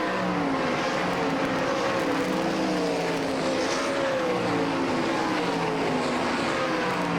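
Sprint cars race the final lap at Sharon Speedway during the All Star Circuit of Champions Sharon Nationals in Hartford, Ohio, a dense continuous engine roar with wavering pitch as the pack circles the dirt oval.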